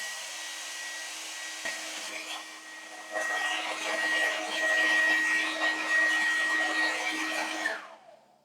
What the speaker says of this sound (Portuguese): Pego no belo escobilhão de cabeleireiro e o secador de cabelo